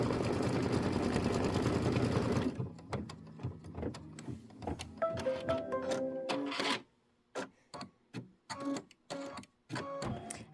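A computerized embroidery sewing machine stitches a tack-down on a Kimberbell quilt block, its needle running in steady rapid bursts with short pauses and clicks between stitch runs, close and fairly quiet.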